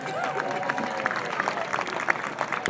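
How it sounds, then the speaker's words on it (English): Applause from a crowd at a youth baseball league opening ceremony, honoring the former league president, steady clapping with scattered cheers, moderately near. "Give him a round of applause."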